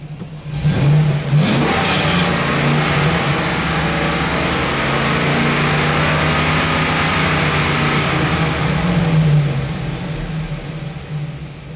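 A Chevy Express van engine, which has O2 sensor trouble, revs hard and steadily for about ten seconds, loud and close, then eases off near the end.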